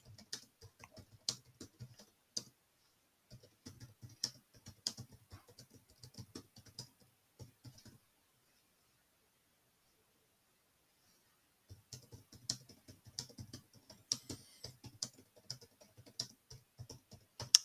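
Typing on a computer keyboard, soft rapid clicking in irregular bursts that stop for a few seconds midway and then resume, quiet and close.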